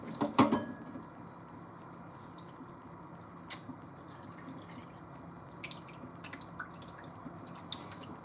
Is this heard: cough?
no